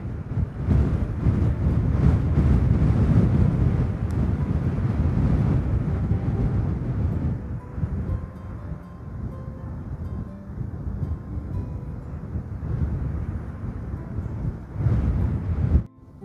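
Strong wind buffets the microphone in a steady low roar on a sunny day at Theodore Roosevelt National Park, North Dakota, easing somewhat partway through, with no voices.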